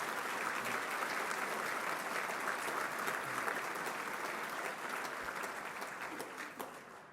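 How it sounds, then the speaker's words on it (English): Audience applause at a fundraising dinner, a steady, full wash of clapping from a large room that holds for several seconds and slowly thins toward the end, with no voices over it. "Another round of applause for the Beardsley family."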